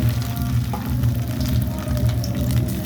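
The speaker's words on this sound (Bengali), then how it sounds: "এক এক করে এরকম তেলের মধ্যে ছেড়ে দিতে হবে।" Chicken pakora pieces fry in hot white oil in a kadai with a loud, dense, continuous bubbling sizzle. The sound stays close and unbroken, with a faint clink partway through and no talking.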